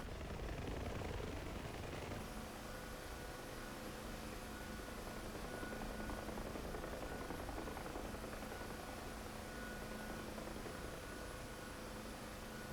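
A UH-1 Huey helicopter engine cold start in the DCS World flight simulator, heard as a steady, loud turbine roar and whine that holds evenly for the whole stretch with no talking.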